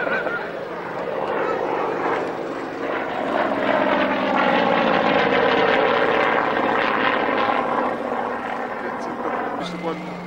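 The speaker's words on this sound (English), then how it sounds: "They were kind enough to clear the Harrier GR to fly the last run for Angie in the Yak 11." A Harrier GR jet flying at the 1999 North Weald Airshow: a steady, loud, rumbling aircraft roar that fills the whole stretch, with people talking over it.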